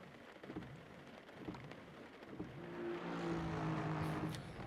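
Rain pattering in the Assetto Corsa Competizione racing game during a wet race at Laguna Seca, a steady wash of rainfall mixed with car noise that swells louder partway through, with no talk.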